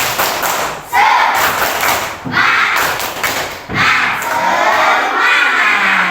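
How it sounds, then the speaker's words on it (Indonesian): A group of young people performs a rhythmic spirit clap chant, unison claps and thumps in patterned bursts mixed with shouted voices, loud and close, with short pauses between phrases. "Tepuk semangat."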